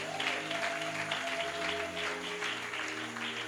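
Applause from a church congregation, a steady wash of clapping sustained throughout under a tonal musical drone of organ or keyboard chords.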